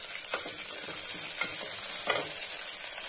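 Onion, ginger and chili sauté in a pan for wheat rava kichadi, with a constant hissing sizzle and a few soft stirring scrapes, close and steady, with no voices.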